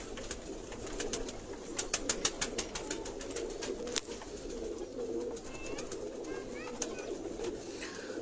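Pigeons kept for sale in Sialkot coo softly and repeatedly at low volume, accompanied by scattered sharp clicks and light rustling from the birds nearby.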